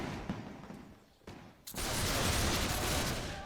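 Troops firing muskets in the strategy game Between Empires: a few scattered shots at first, then a dense, sustained volley of gunfire crackling loudly from about halfway through.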